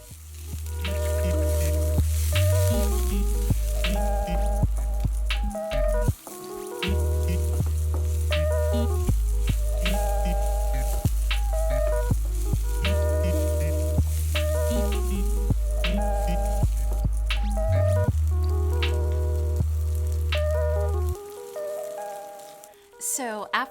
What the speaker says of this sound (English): I'm going to throw in my red pepper flakes along with my garlic and ginger, and I'm just going to fry those up for about a minute